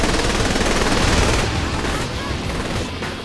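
Rapid, loud gunfire in Saints Row The Third Remastered, a dense continuous burst of shots that thins slightly toward the end.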